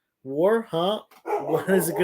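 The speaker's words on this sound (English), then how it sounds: "Sorry about my dog barking." A dog barks indoors in a few quick, close bursts that overlap someone talking.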